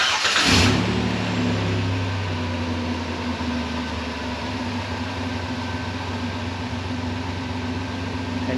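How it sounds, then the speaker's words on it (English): A car engine cranks briefly, catches and settles into a steady, even idle that runs on alone at close range with a constant low hum. "now I'm going to start the vehicle"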